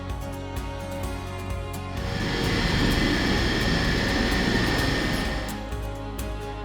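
Aircraft engine droning steadily during flight, heard from on board; the roar swells louder midway, then settles back to a steady hum, with no talking.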